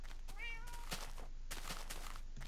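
Cat in Minecraft giving two short meows close up, a brief pause between them, clear over faint background.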